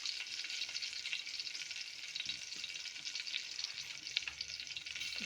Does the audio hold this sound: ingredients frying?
yes